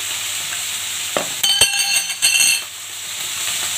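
Leaves frying with chilli, salt, turmeric and cumin are stirred in a pan, a steady sizzle running throughout while a few scraping and clinking stirs come through near the middle.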